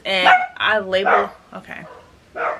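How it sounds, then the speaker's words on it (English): A pet dog gives a few sharp, loud barks in a short burst, mixed in with a person talking nearby indoors. "that's my dog."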